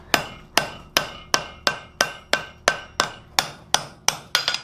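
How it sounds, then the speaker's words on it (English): Hammer blows on hot steel held in forging tongs over the edge of an anvil, forming an offset: a dozen evenly spaced ringing strikes about two per second, the last few quicker, loud and close, with no talking. "we're going to set it over the far side edge of the anvil, and create our offset"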